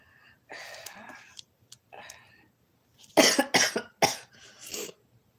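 A burst of several harsh, close coughs in quick succession, preceded by quieter breathy throat sounds and followed by a softer trailing cough.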